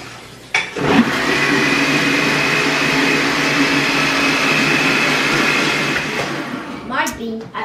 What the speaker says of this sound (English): Blend it up again.